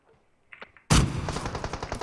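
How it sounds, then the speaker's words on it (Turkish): A rocket launcher fires in the mobile battle-royale game PUBG Mobile: a sudden loud blast at close range after a few faint clicks, followed by a sustained roaring, crackling rush that stays strong to the end. "bir roket atar adamda deneyeceğim"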